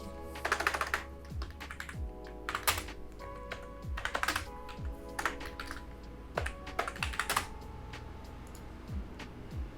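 Typing on a computer keyboard, a quick clatter of close key presses coming in several bursts with brief pauses between them.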